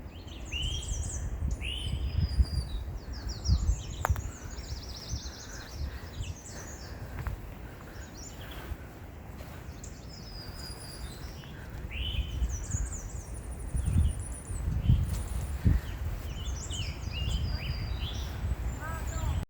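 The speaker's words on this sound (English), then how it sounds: "we're quite deep in the, woods, and we can hear a lot of birds" Many birds chirp and trill high overhead in a woodland, with overlapping calls throughout, over soft rustling and low background rumble.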